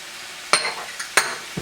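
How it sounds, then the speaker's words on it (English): Ful medames cooking in a pan as spices (cumin, oregano, paprika and chili powder) are stirred in, with a quiet background sizzle and three or four sharp scraping clacks of the utensil against the pan. "we're just going to stir this right up, let this continue to cook on about a medium heat"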